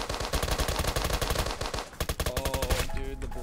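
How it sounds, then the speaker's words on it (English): Rapid bursts of gunfire in the Roblox game Apocalypse Rising 2 rattle continuously, fast automatic shots layered over one another, loud and close, then fading into a musical tone at the end. "I heard gunshots."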